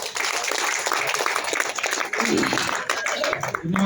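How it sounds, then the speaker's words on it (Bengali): Applause for Faruk boss at a company meeting: a crowd claps steadily and fairly loudly, with a voice speaking partway through. "ফারুক বসের জন্য তালিটা একটু ছোট হয়ে গেছে, আর একটু বড় তালি।"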